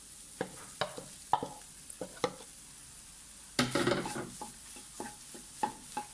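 Chopped broccoli sizzles softly in a pan as a utensil stirs it, giving a series of sharp scraping clacks and a louder burst of crackling midway, close and fairly quiet.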